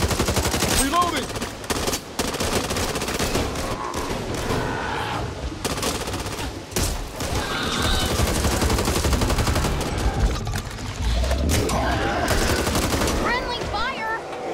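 Sustained automatic gunfire in the video game Back 4 Blood, with loud continuous bursts and overlapping shots from several weapons, with short gaps and occasional heavier impacts, and game voices shouting now and then.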